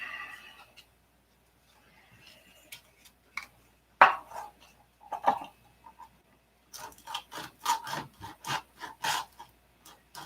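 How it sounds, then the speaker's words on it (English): A painted canopy is sanded by hand before putty goes on, giving short scratchy rasping strokes in an irregular rhythm after a near-quiet start, with the strokes coming faster toward the end. "Try not to sand up into your, above your painted line"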